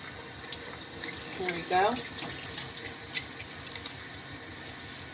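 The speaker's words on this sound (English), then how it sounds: "Now we're going to test lather the soap bar that has turmeric, hemp oil, goat milk, and activated charcoal." A soap bar made with turmeric, hemp oil, goat milk and activated charcoal is lathered under running tap water, giving a steady, fairly quiet flow with soft splashing. A voice speaks briefly.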